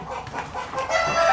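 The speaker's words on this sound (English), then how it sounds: "Trouble in the chicken house." Chickens cluck and a rooster crows inside a chicken house, a busy, moderately close chorus of fowl calls with no one speaking.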